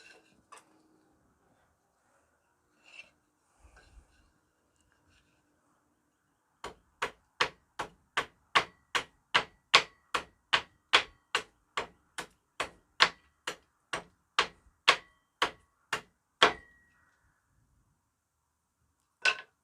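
Pine wood being chopped with a Skachet hatchet: a long, steady run of about twenty sharp, evenly spaced strikes, close and crisp, following a few quiet handling clicks, with no talk.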